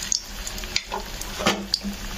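Carrot bajji frying in a small amount of oil, a close, steady sizzle broken by occasional stirring clinks and splatter pops.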